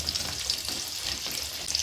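Onions frying in a pan in a village kitchen, a soft continuous sizzle with faint stirring pulses, close and steady, no voices.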